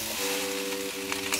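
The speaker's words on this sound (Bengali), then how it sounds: "এবার এটিকে ভালো করে একটু টাইম নিয়ে ফ্রাই করে নেব।" Garlic egg fried rice sizzling in a wok over a high gas flame, a steady close crackle with a faint hum beneath and a couple of light stirring knocks near the end.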